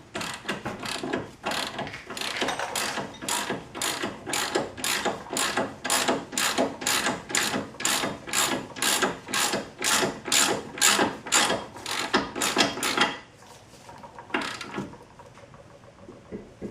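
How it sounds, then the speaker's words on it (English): Torque wrench ratcheting to tighten a ball joint nut during an upper control arm replacement on a Dodge, a long run of loud, evenly spaced close ratchet strokes that stops, leaving a few faint clicks. "I am going to use a torque wrench to tighten all these bolts up. Tightening up the ball joint nut now."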